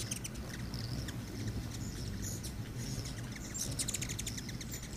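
Black-chinned hummingbirds at a feeder make faint, scattered high chirps and twitters over a soft, constant background hiss.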